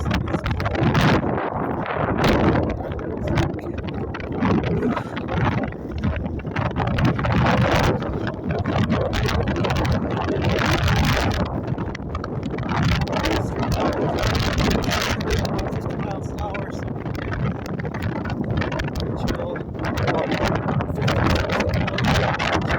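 Strong, cold wind roars without letup during a North Slope snowstorm, a loud broadband rush with gusts and microphone buffeting, and no voices heard.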